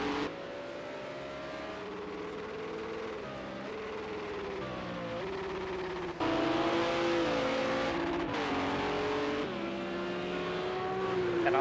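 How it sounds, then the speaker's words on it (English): A Cadillac GT3 race car in a racing video game at the Le Mans Bugatti Circuit, its engine revving loud and close, pitch climbing and dropping through repeated gear shifts, with a sharp surge in intensity midway through. "it's amazing how much power is getting out of this Cadillac"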